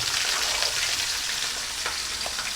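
Mixed vegetables with potato frying in oil with panch phoron spices, a steady close sizzle with faint stirring crackles and no talk.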